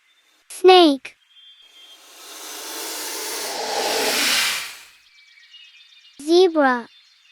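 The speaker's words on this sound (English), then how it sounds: "snake" A snake lets out one long, breathy hiss that swells and then fades. It is loud and alone, set between short chirpy calls at the start and the end.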